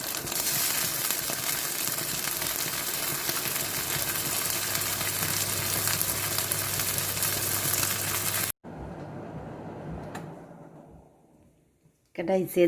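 Thai grilled pork (moo ping) sizzles in a frying pan with a loud, steady hiss that abruptly drops off, leaving quieter crackling that fades before a brief burst returns.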